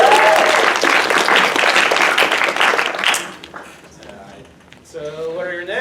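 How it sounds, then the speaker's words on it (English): An improv show audience applauds volunteers with a loud burst of clapping that fades after about three seconds, followed by voices talking. "Give another round of applause."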